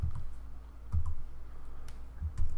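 Soft, close clicks of typing on a computer keyboard come in small irregular bursts against a quiet room hum, with no talk.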